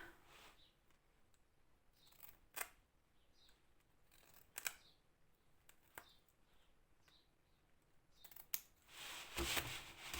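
Scissors snip the excess ends off a finished diamond painting at a craft table, with sharp cuts at irregular intervals and quiet handling sounds between them.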